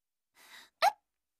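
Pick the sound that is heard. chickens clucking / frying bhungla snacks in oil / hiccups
hiccups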